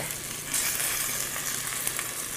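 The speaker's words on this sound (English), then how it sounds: "you just really want it to sit there for a minute to get a good sear" Meat searing undisturbed in a hot pan, a close, steady, dense sizzle and crackle that lasts the whole moment.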